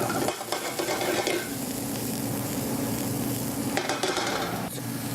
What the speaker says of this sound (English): Got a variety of mushrooms that we were able to find locally. We're gonna go ahead and stir fry that up.